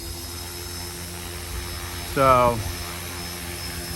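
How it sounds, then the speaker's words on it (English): A Trex 450 RC helicopter with a Flywing H2 controller changes rotor head speed. Its whine holds a steady, tonal drone throughout, and a voice briefly speaks over it midway. "you can hear the head speed go up to the next one above it."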